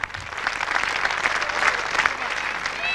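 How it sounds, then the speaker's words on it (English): A crowd claps and cheers for the double-winning youth football league champions as the captain collects the trophy, lively applause with voices mixed into it. "While the double winners milk the applause"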